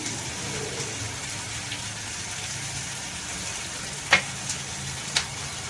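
Jackfruit korma with onion and spices fries in a pan with a steady, even sizzling hiss. Two sharp utensil clicks come near the end, and no one speaks.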